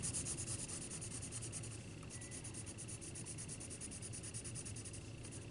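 A pencil shading a portrait drawing makes quick, rhythmic scratchy strokes, faint and close, over a hiss of background noise.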